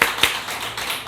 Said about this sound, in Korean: 박수 안 치세요?